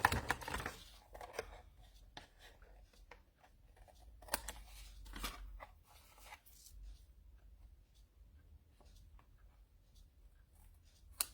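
Scissors trimming a paper card from the back for an iris sketch craft project, with a series of short quiet snips and cuts, several louder bursts near the start and middle, alone in a quiet room.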